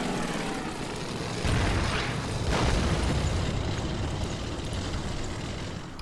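Heavy booming blasts of artillery or anti-tank gun fire in the wartime strategy game Order of Battle, a dense roaring rumble with two stronger swells of explosion partway through, loud and sustained with no talk.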